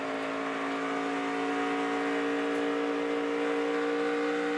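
NASCAR Nationwide stock cars race at Kentucky, a steady loud engine drone with sustained tonal whine throughout, no voices.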